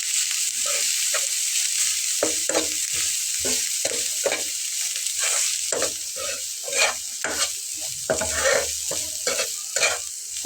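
Potato snacks fry in hot oil with a loud, continuous sizzle, broken by repeated scraping and clattering as they are stirred in the pan.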